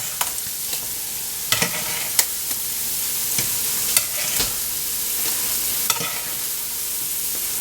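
Noodles fry on a quarter-size griddle with a steady bright sizzle, while spatula clicks and taps break through at irregular intervals.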